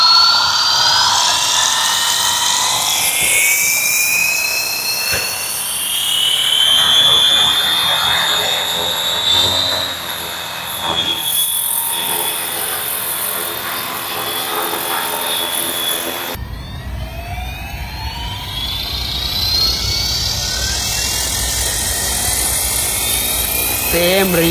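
A radio-controlled 3D helicopter spins up, its electric motor and rotors producing a loud, close, rising whine that climbs in pitch and keeps whirring steadily, with a voice talking over it.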